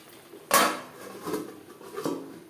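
A lid set down onto a cooking pan while fish curry masala simmers on low flame, giving one loud metallic clank followed by two softer rattling knocks as it settles, close by with no talking.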